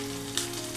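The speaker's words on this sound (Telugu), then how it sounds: "ఆయిల్ వేడెక్కిందని ఇప్పుడు ఇందులోకి ఆనియన్స్ వేసుకుందాము" Chopped onions sizzling in hot oil in a pan while cooking a potato and egg fry curry, a steady close hiss with a faint mid-range hum, brief and without talk.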